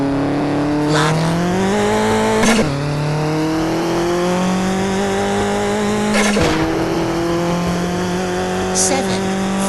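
Lada car engine in the Real Drift mobile racing game, a loud steady drone that rises in pitch as it revs, with sharp gear-shift breaks near 2.5 and 6.5 seconds and brief tyre-squeal bursts.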